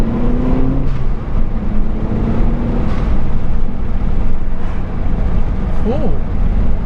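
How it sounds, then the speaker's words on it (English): A Gen 1 Mazda 3 MPS with a GFB Respons blow off valve pulls hard through third gear, a loud sustained engine drone heard from inside the car with a rising pitch and faint whooshing near the end. "I know blow off valves you're going to hear anyway."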